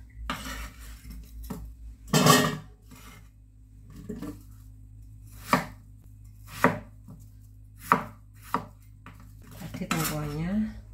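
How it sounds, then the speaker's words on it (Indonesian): A knife chops winter melon and other ingredients on a board for a Hong Kong-style fish ball dish: sharp separate thuds at uneven gaps, close and clear against a quiet background, no talking. "Kita potong-potong semua bahan."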